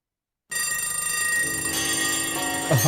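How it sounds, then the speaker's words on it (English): A loud electric bell rings continuously for a few seconds after a moment of silence, bright and metallic, with a brief clatter near the end. "Oh, that dreaded bell and alarm."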